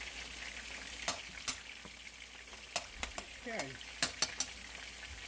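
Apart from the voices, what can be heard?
ground turkey and Italian sausage sizzling in a pan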